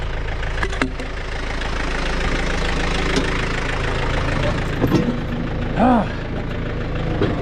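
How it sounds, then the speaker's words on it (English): Tractor engine idling at a sawmill, a steady low rumble with a knocking rhythm running throughout, joined by a few clanks and a brief vocal sound. "let's get this tractor out of the way here"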